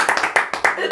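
A church congregation claps in a quick, uneven rhythm, with sharp, close hand claps repeating several times a second under voices.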